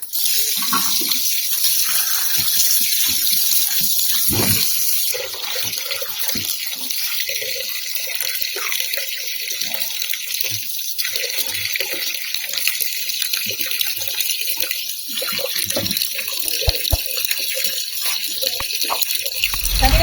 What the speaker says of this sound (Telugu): ఈ చేపలు ఒక 3 times 4 times అని కడుక్కోవాలండి